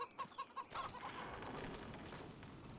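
Game chickens in Farming Simulator 25 give a few short, close clucks at the start, followed by a steady wash of farmyard ambience.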